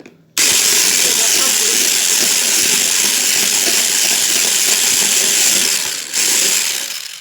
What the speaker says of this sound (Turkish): Bir su bardağı da sıvı yağımızı ekliyoruz. Evet. Ve şimdi yine çırpıyoruz ama çok fazla çırpmayacağız.